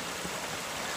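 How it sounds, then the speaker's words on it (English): Water flowing steadily along a creek bed on a forest trail, a continuous close rushing wash that holds evenly through the moment with no voices. "as the water flows along"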